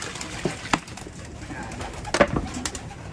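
Pigeons coo softly while bathing outdoors, low murmuring calls with a few brief splashes and flutters against a faint background hiss.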